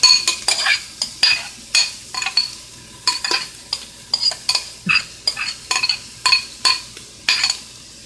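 Onions and garlic cook in a hot soup pot where meat was just browned, with rhythmic spoon scrapes and clinks stirring them about a dozen times over a low sizzle, nearby and fairly loud.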